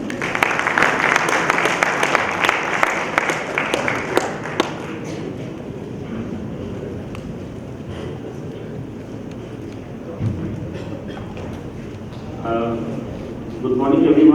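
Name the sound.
audience applause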